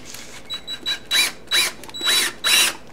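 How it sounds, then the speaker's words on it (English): A power drill boring a pilot hole into the aluminum engine case of a 1973 Honda CB750, in about six short whining bursts that rise and fall in pitch, close and clear with no talking. "Now let's drill a pilot hole first."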